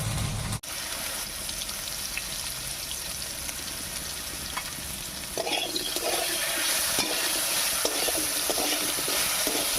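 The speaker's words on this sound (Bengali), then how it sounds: "এবার আলুগুলোকে একটু ঢাকা দিয়ে আমি ভাজা ভাজা মতো করে নেব" Potatoes frying in mustard oil in a wok with salt and turmeric, a continuous broad sizzle that grows a little busier midway, with faint stirring scrapes and no talk.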